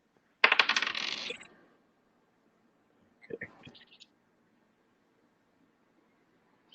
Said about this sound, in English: we can like count the dice being rolled just by the noise